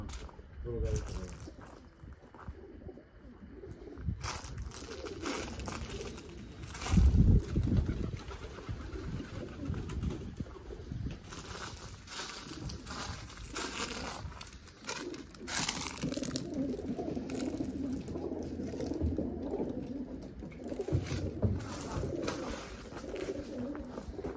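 Pigeons coo beside just-emptied pigeon cages, their low murmuring calls running steadily under close conversation and handling noise, with a louder burst partway through.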